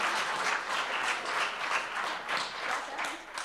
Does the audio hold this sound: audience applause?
yes